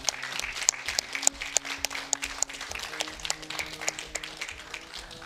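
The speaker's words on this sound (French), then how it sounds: "une bonne main d'applaudissements pour toute l'équipe" Steady applause from an audience, many hands clapping together in a dense, continuous patter that holds at an even level throughout.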